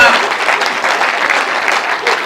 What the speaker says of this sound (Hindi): तो तालियां थोड़ी सी बजा दीजिए